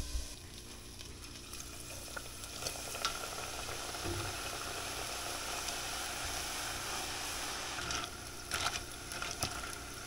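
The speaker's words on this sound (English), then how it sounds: "we're going to cut those into strips, and we're going to fry these" Corn tortilla strips frying in hot oil, a steady low sizzle and crackle that continues evenly throughout, faint and without talk.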